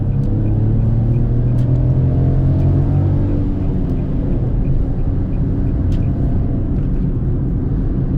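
A Fiat Argo with a 1.0 Firefly engine pulls hard on the road as if overtaking, a steady droning engine note rising under constant road rumble, close and loud throughout.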